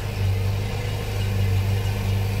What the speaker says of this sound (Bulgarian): Запалили сме двигателя, да видим дали има течове.